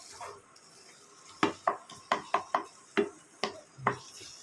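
A spoon stirs tomato curry in a metal pan, giving about ten sharp clinks and scrapes in an uneven rhythm, close and moderately loud, with no talk over it.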